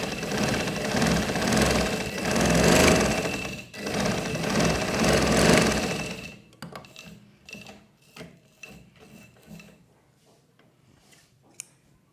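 A sewing machine stitches lace onto a frock piece, its motor whirring loudly and steadily for about six seconds before stopping. Quieter clicks and handling of the fabric follow.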